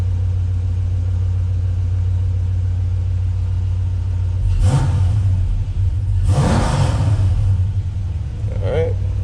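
Gen3 Hemi V8 in a 1968 Dodge Charger idles with a steady low rumble, rising in two short revs, then a brief blip near the end, with voices heard faintly.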